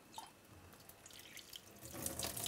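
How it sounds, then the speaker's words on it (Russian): Cold water runs from a tap over boiled chicken hearts in a sieve, a steady splashing flow that grows louder and fuller toward the end, with no talking. "Я обычно всегда сливаю в сито, потом промываю холодной водой."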